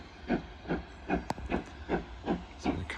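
A steam train in the Cotswolds chuffs past in a steady rhythm of evenly spaced exhaust beats, heard from a distance and fairly faint, with one brief sharp click partway through.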